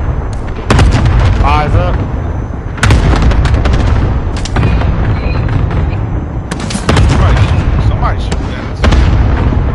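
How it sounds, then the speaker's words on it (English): Airstrike explosions in a first-person shooter rumble as a string of deep, heavy booms roughly every two seconds, each trailing off into gunfire, while players talk over the blasts. "Airstrike target marked."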